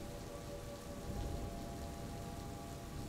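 Steady rain falling outdoors as an audio drama effect in a Vietnamese rural folk ghost story, a dense continuous hiss that stays even throughout with no voices.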